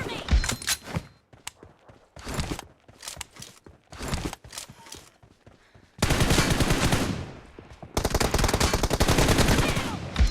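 Rapid bursts of gunfire in the video game Free Fire during a 1v1 match, close and loud, with short pauses between volleys and then long sustained automatic firing.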